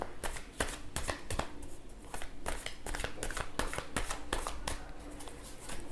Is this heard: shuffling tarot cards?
yes